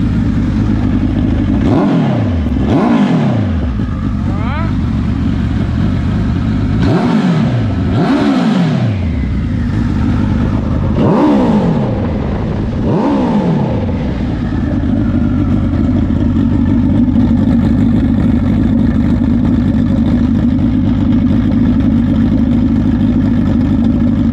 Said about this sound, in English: this thing is just just a quick flip of the accelerator